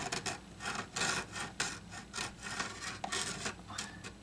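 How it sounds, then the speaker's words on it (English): A blade scrapes old glue off the binding edges of a Martin D-28 acoustic guitar, with close, dry rasping strokes repeating in an uneven rhythm and no talking. "Scraping the old glue off there."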